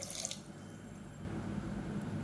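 Water is poured into a pot for horse gram soup in a home kitchen, a soft running and splashing that continues at a low, steady level with no talk.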